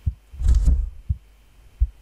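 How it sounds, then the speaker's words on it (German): Low heartbeat thuds in a horror video game, a few separate beats spaced about a second apart, close and distinct, with a brief muffled rumble in between and no voices. "Was heißt das, wenn man hier einen Herzschlag hört?"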